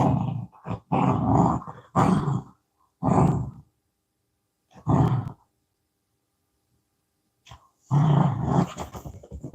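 A puppy growls close by in rough, rumbling bursts of one to two seconds, separated by short silences and one longer quiet gap, with no voices.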